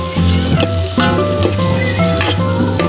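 Carrots sizzle and fry loudly in a hot pan while being stirred, with a steady crackling hiss and periodic scraping strokes through the mixture.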